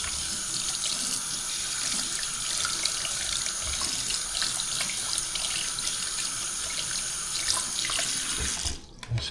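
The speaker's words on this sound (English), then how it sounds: "Let's run some water over it." Tap water runs in a strong, steady splashing stream over a fishing reel spool being cleaned, loud and close, before cutting off abruptly near the end.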